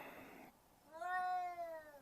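A cat gives a single drawn-out, rising-then-falling meow, clear and fairly close, after a brief burst of broadband noise.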